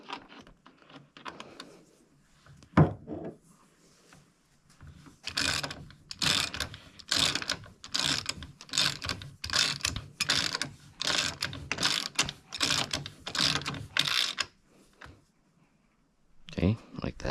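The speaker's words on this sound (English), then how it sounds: "We'll start with a hand tightening." Rapid bursts of ratcheting clicks from a hand tool tightening bolts as an engine is mounted back into its frame, running steadily for several seconds at close range with faint voices before and after.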